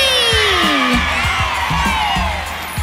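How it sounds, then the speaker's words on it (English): A crowd of children cheering and whooping for a tiny spider contestant, a lively burst of shouts and yells with a rising sung tone and rhythmic thumps underneath, loud and close. "Let's cheer him on!"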